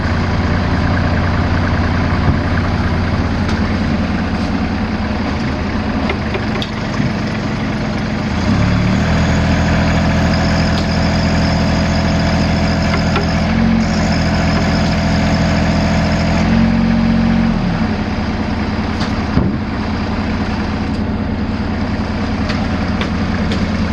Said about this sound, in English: I'm going to spin the track real quick